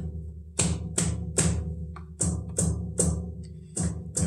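A communal drum played by several people for a Cherokee greeting song gives steady, evenly spaced deep beats, loud and close, with a brief skipped beat midway.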